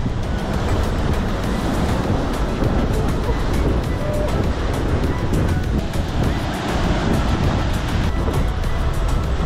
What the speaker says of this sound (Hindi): हाई टाइड के समय है ना, सामने से समुद्र का पानी इन दो बड़े बड़े रॉक्स के बीच में आता है